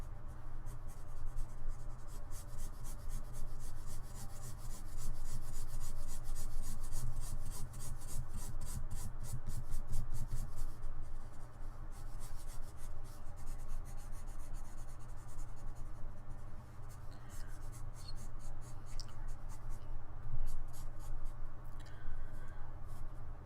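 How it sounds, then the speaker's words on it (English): A pencil shading in a drawing makes quick, steady scratching strokes on paper, close up, in long runs of fast back-and-forth rubbing with short pauses between passes. "just going to quickly or kind of shade in this a little bit"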